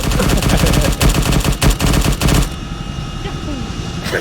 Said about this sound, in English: Minigun's pretty sexy.